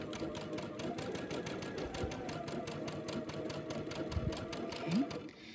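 A sewing machine set to a 2.5 stitch length runs steadily along a quarter-inch quilt seam, its rapid even stitching whir close and continuous, with a voice faintly under it.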